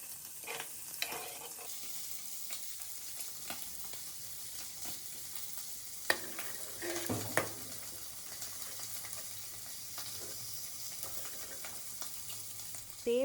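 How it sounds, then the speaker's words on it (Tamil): Coconut milk and chilli masala being stirred in a frying pan for a village-style fish egg fry, a steady soft sizzle with scattered scrapes and clinks of the spoon against the pan throughout. "இப்போ தேங்காய் பால் சேர்த்திட்டு சில்லி மசாலா சேர்த்து மிக்ஸ் பண்ணிவிடுங்க"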